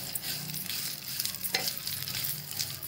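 Vermicelli roasting in a pan for sevai kheer, stirred with a spoon: a steady dry sizzle with rhythmic scraping and occasional sharper clinks against the pan.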